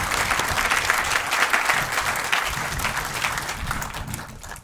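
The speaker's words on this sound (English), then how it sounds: "Please join me one more round of applause for all of our speakers for their enormous support." A crowd claps for the speakers at a campus groundbreaking ceremony, a dense, even wash of applause that holds steady for several seconds and then begins to taper, with no talking over it.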